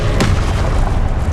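A Confringo blasting spell goes off in Hogwarts Legacy as a loud, sustained booming explosion with a sharp crack near the start and dense rumbling that fills the whole moment.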